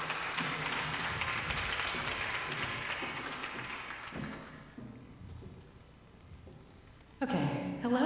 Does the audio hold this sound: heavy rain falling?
no